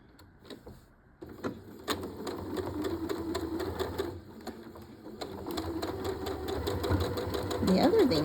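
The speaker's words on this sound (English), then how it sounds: "All right, well, let's sew this" Sewing machine stitching quilt pieces with steady running bursts and short pauses, close and fairly loud, while a person talks over it.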